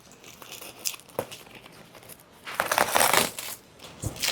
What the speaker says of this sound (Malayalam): വളരെ ശ്രദ്ധിച്ച് ഇത് അൺബോക്സ് ചെയ്തില്ലെങ്കിൽ ഡിസ്പ്ലേയിലൊക്കെ കൊണ്ടുപോകുന്ന പണി പാളും.